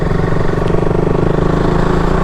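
A Royal Enfield Interceptor 650 motorcycle engine rumbles loud and close with a steady, throbbing pulse, while riding along without any talk.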